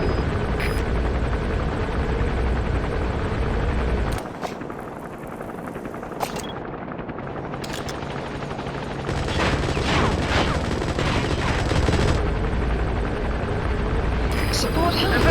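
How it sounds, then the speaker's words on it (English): Support helicopter from Metal Gear Solid 5: The Phantom Pain arriving, a loud steady rotor drone with mixed gunfire bursts, swelling again near the end, with game radio voices speaking over it. "Support helicopter has arrived."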